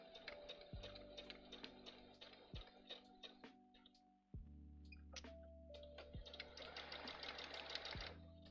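A sewing machine stitches panniers in a steady run of rapid ticking needle strokes. It pauses briefly partway through and then resumes, close and fairly loud, with no talk.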